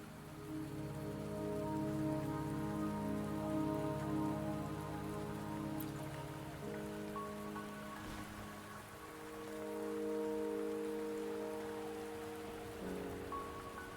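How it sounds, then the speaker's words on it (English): Steady rain falls in the video game Wuthering Waves, an even hiss of drops on surfaces that continues alone beneath soft, sustained musical tones. "Don't worry, the rain won't last much longer."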